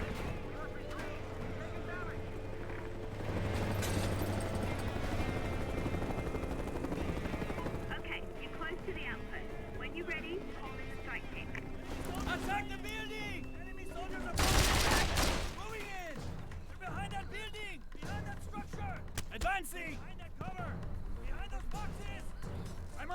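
Gunfire and explosions in the PC action game Mercenaries 2: World in Flames, a dense battle din with bursts of shots, a heavy blast near the middle and a droning engine, mixed under shouted voices and game music.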